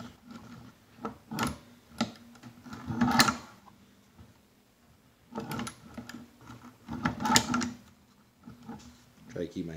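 A Chinese leather shoe patcher sewing machine stitches a thick leather Glock holster, giving bursts of rapid mechanical clacking and thumping that start and stop. The stitching runs close and fairly loud, with no talking.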